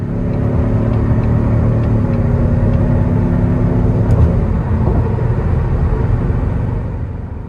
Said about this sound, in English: as we increase the gas input, it's going to have more fake noise.